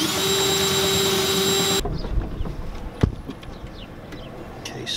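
A power tool opens a hole up to 3/4 inch during a transfer tank install in a Ford F250, running loud and steady, then cutting off abruptly and leaving quieter handling clatter and a sharp knock.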